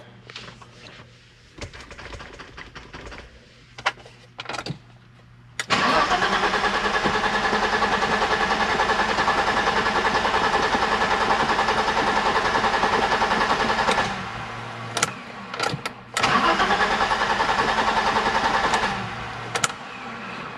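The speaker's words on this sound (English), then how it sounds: "I'm gonna plug it in, give it a few cranks, and see what I can tell from just cranking it" A 1987 BMW 325 E30 engine cranks without firing: a long, loud, steady starter whir runs for several seconds between shorter bursts of cranking and clicks, close by and with no speech.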